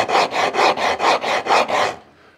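Wood rasp filing back and forth, seven even rhythmic strokes close up and loud, then the scraping stops and fades into quiet.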